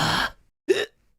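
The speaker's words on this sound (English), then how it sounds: "Hiccups took a hold of me again." Two sharp hiccups, one right after the other, close and fairly loud with a short silence between, each a brief voiced catch in the throat.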